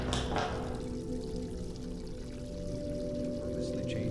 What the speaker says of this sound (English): the only thing you can interact with is the water falling from the sprinkler system